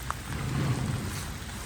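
Heavy rain pours down in a dense, steady hiss, with a low rumble underneath and no voices.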